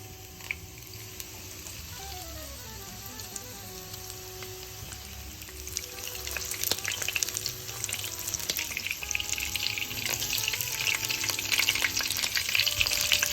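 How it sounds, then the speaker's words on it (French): Coconut shrimp fritters deep-frying in hot oil, a dense continuous crackle and bubbling sizzle close by that grows louder and busier partway through, with no talking. "maintenant, on va les faire frire pendant environ 2 minutes"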